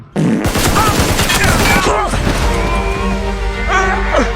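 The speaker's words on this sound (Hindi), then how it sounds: "हमें एक साथ गोली चलाना होगा 3 गिनने पे, ताकि ये बचे ना।" Dense bursts of rapid gunfire from the Free Fire battle royale game, loud and continuous with overlapping shots and crashes, several shooters firing together, with game effects and faint voices underneath.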